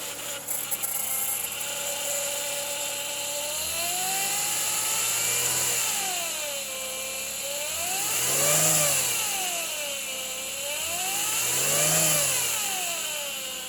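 A 2010 Chevrolet Impala LT with 155,732 miles runs alone at a steady idle, then is revved three times, each rev swelling smoothly up in pitch and falling back to idle.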